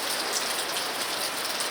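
Steady, soaking rain falls on Kodiak Island, Alaska, a dense continuous hiss of drops with no talk, even and unbroken throughout.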